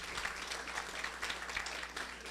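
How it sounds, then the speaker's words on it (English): Audience applause at a community outreach event, a steady dense wash of many hands clapping at moderate distance, quite faint and even throughout with no voices on top. "Again, round of applause."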